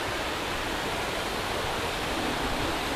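River water rushes continuously near the top of a waterfall, a loud, even roar of flowing water with no pauses and no voices.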